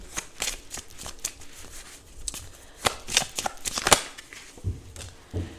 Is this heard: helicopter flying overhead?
no